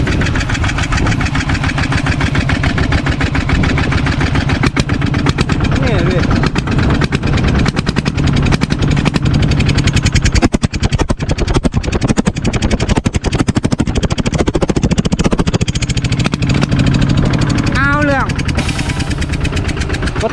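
A two-wheel tractor's small engine, fitted with an aftermarket TSK 4-valve exhaust pipe, revs hard up close, its loud exhaust chugging in rapid pulses, continuous and rough.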